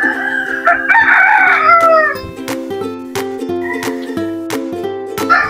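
A Texas gamefowl rooster crows loudly and close by near the start, a long strained call, followed by repeated sharp knocking and rhythmic clatter.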